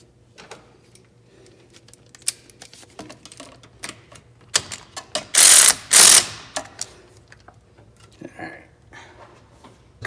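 Ratcheting clicks and metallic tool sounds come up close while a part of an HSP coolant kit is tightened down, scattered taps building to two brief loud rasping bursts.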